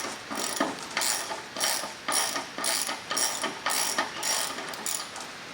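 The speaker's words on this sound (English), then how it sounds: "we'll use the torque wrench to finish it off" A torque wrench ratchets as autogyro rotor blade bolts are tightened, producing about ten evenly spaced bursts of crisp, close clicking, each lasting roughly half a second, with no talk.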